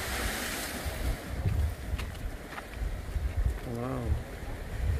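Ocean waves at Cemongkak Beach in Pecatu, Bali, give a constant loud rushing wash with wind buffeting the microphone, and a brief voice rises over it near the end.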